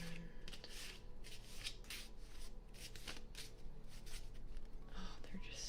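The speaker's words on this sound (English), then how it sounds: "So I'm gonna need to shuffle this pretty well." A brand-new, crisp deck of tarot cards is shuffled close up, giving soft, quiet riffling and rustling bursts that repeat unevenly in an intimate setting.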